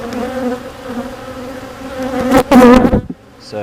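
Honey bees in a beehive hum with a steady, droning buzz that swells louder and rougher near the end before briefly dropping away, close and continuous throughout.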